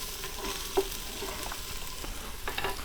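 Four cloves of garlic and a small red onion sizzling and being stirred in a pan for pulled pork chili, a steady close fry hiss with a brief clatter, no talking.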